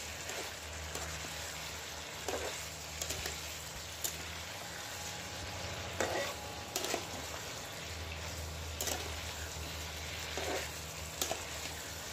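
Potatoes and chicken sizzling and frying steadily in a pan for a Bengali onion chicken curry, with scattered scraping stirs and clicks over a continuous hiss, no voices.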